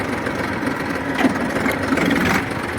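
A Massey 1035 tractor engine idling in a farm field, a steady, fairly loud mid-pitched diesel rumble that runs unchanged and close by for the whole stretch, with no voices.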